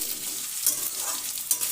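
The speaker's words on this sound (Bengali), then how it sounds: "আলু ও কুমড়ো 3-4 মিনিট নেড়ে" Potato and sweet pumpkin chunks stir-fry in a pan for a mixed vegetable chhakka, a brief continuous sizzle with a couple of sharp spatula scrapes close by.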